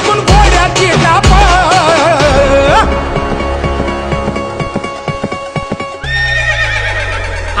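Horse neighing loudly with sharp clip-clop of hooves, used as a sound effect in a Marathi song, followed by a long whinny and then music with a drum beat.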